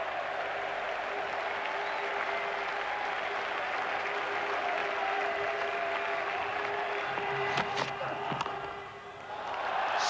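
Home supporters at an England versus Pakistan Test match in Manchester applaud a boundary four, a steady broad wash of clapping and crowd noise held throughout before easing near the end.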